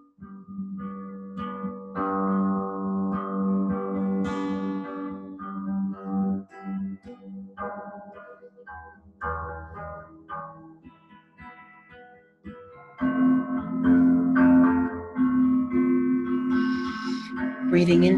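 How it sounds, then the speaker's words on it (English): Harp notes are plucked in loose melodic phrases, ringing and decaying, with a quieter gap midway before fuller, louder strums and sustained tones return near the end. "listening to the harp played now"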